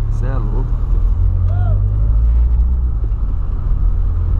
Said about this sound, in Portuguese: Esse aqui é o carro do meu dia a dia